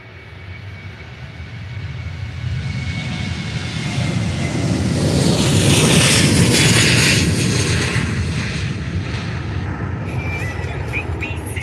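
Jet2 airliner at Faro Airport, a jet engine roar building from a quieter start to a loud peak around midway, then holding a broad sustained whine as it passes.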